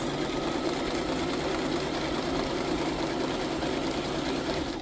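A sewing machine stitches through paper journal pages in one continuous, even whirring run, close and steady, with no talking over it.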